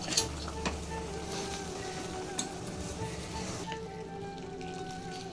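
Ragi flour upma being stirred in a pan, a steady soft sizzle with scraping and stirring strokes throughout, close and moderately quiet.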